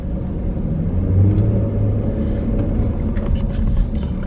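Road traffic jammed after a crash between a pickup truck and another car outside a mall, heard as a steady, loud low rumble of idling and slowly moving vehicles, with no clear voices.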